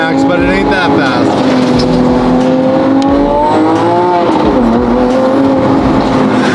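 A Porsche Carrera GT pulls hard at full throttle, its engine note loud and close, climbing steadily with a brief dip near the end as it shifts and keeps accelerating.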